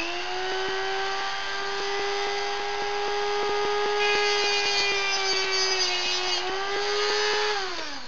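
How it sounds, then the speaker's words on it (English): A Dremel rotary tool with a cut-off disc cuts through a hand-turned walnut gin glass stem, giving a loud, steady high whine with rhythmic ticking, dipping in pitch briefly near the end before winding down. "my Dremel with a cut off disc, and I'm going to be cutting off around about inch and a half from the bowl itself"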